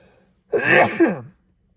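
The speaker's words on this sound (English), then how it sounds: "I gotta sneeze." A single close sneeze, a sharp breathy burst lasting under a second, loud against a quiet background.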